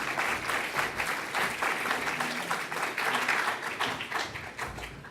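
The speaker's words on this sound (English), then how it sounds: "Big round of applause for Douglas." Audience applause at an AR/VR meetup, a full room of hands clapping in a dense, steady wash that holds loud throughout and eases slightly at the end.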